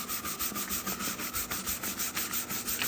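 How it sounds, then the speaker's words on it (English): Soft bristle brush scrubbing gently over a Clopay garage door with a Lustra finish, close and even back-and-forth swishes repeating in a steady quick rhythm of about four strokes a second. "I got a soft bristle brush here."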